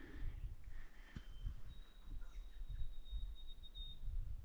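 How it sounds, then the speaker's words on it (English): A thin, high-pitched winter wren song trills faintly in the distance over rustling outdoor spring woodland noise, with a brief sharp click partway through. "And I believe that's a winter wren."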